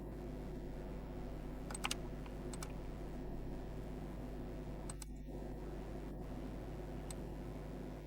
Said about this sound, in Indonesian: Di sini, ketik negara atau kode CSC Anda.